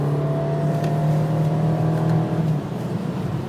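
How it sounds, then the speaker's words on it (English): A race car on the Nordschleife runs at full throttle in fourth gear, its engine a loud, steady, high drone held against the rev limiter before the pitch drops away near the end. "Rev limit to fourth gear"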